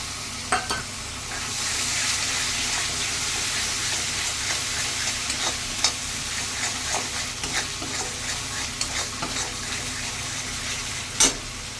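Prawn malai curry base fries loudly in a pan as sour yogurt is spooned in, a dense steady sizzle with occasional spoon clicks and stirring, close and uninterrupted by speech.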